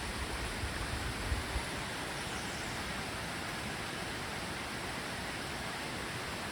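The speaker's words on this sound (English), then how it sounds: "I'm really close to the creek. It's pretty. There's lots of little waterfalls" A creek with little waterfalls rushes steadily near a trail campsite, a dense broadband water hiss that stays even and unbroken throughout, with no voices.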